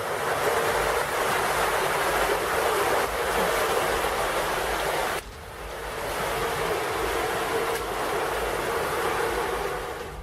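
Sewage water rushing through an underground sewer tunnel, a dense, loud, continuous roar with a brief dip partway through, then steady again, with no voices.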